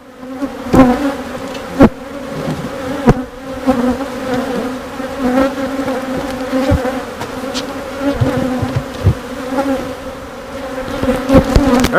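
A honeybee swarm near a queenless hive with queen cells hums loudly and steadily, a dense close buzzing drone with individual bees zipping past the microphone.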